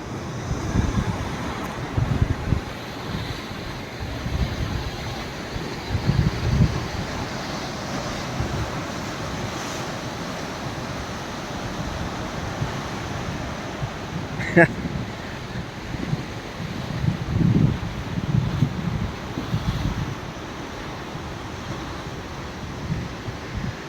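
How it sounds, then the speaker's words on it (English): Wind buffets the microphone over a constant wash of sea surf on the Isle of Rum, Scotland, with waves rising and falling in rough, irregular surges. "Listen to the sea."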